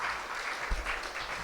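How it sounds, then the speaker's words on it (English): Round of applause from the audience at a national summit on the housing affordability crisis, a steady, fairly quiet wash of many hands clapping for the whole moment. "let's give everybody a round of applause"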